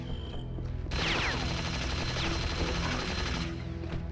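Assault rifle in Unreal Return to Na Pali firing a sustained rapid burst of roughly two and a half seconds, loud and close, with quieter game sounds before and after.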